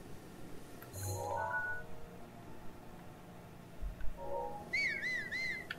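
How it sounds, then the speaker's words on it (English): A character whistles in the Zelda Breath of the Wild video game, a short faint wavering whistle near the end, over quiet game ambience with a few soft chimes. "I did not mean to whistle."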